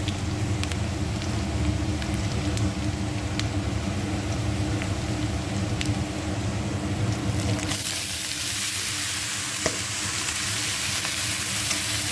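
Chopped banana stem (thor) frying in a pan, a steady close sizzle running without a break, with a sharper, brighter hiss taking over partway through as the stir-fry goes on.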